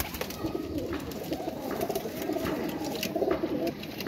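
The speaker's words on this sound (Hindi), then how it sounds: "ये देखें दोस्तों ये भी माशाल्लाह लाखा कबूतर है" Soft, repeated cooing of flying pigeons in a gentle rolling rhythm, with a few birds close by and faint background noise around them.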